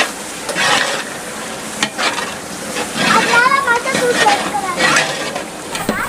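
Tomatoes sizzle and crackle as they sauté in a hot pan for turkey biryani, with stirring scrapes and a steady frying hiss while someone talks over it.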